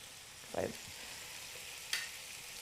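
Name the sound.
food browning in Cuisinart multi-cooker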